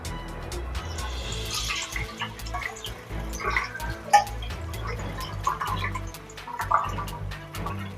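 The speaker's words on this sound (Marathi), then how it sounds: "नूडल्सवर थंड पाणी ओतून घेऊया" Cold water poured over boiled noodles in a colander, giving a wet trickling, dripping and gurgling sound that comes and goes at moderate loudness throughout.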